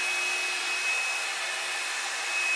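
A handheld hair dryer blowing steadily and close by during a salon-style blowout at home, a continuous airy roar with no pauses and no talking.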